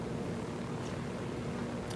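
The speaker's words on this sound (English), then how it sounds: "They're not happy that we're flying a helicopter through their town." Helicopter flying through a town in the video game Ghost Recon Wildlands, a continuous droning rotor and engine rumble at steady level, filling the background without pauses.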